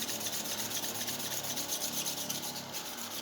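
A mechanical planer knife is sharpened on a stone in a steady, continuous scraping rub with a quick regular back-and-forth rhythm, close and fairly loud, with no talking.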